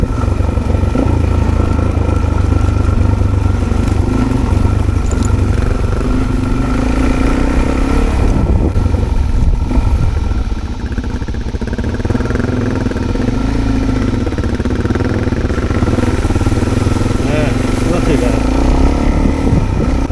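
A Suzuki DRZ400 dirt bike engine runs steadily and loud throughout while riding on Duck Creek Road, a continuous droning mid-pitched exhaust with wind buffeting, rising and falling slightly with throttle.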